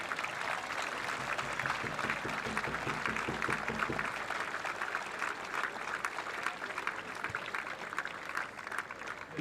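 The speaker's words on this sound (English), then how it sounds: "On va applaudir l'Italie, allez!" Crowd at a canoe-kayak polo world championship medal ceremony in Saint Omer, France, applauding the Italian team with steady, sustained clapping and cheering that holds at an even level throughout.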